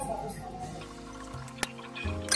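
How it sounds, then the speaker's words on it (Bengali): Bread gulab jamuns drop into sugar syrup in a bowl and get stirred, making quiet wet plops and drips with a sharp clink near the end. "এখন আমি গোলাপ জামুগুলো দিয়ে দিচ্ছি। দিয়ে আমি নেড়ে চেড়ে নিচ্ছি।"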